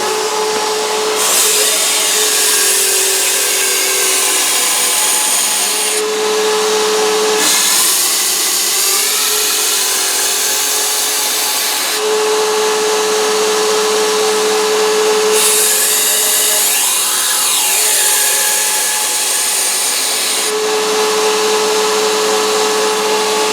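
Belt grinder sharpening a knife blade in a handcraft knife workshop: repeated loud whining passes as the blade meets the belt, each lasting several seconds, separated by brief pauses with a lower motor hum, close and steady.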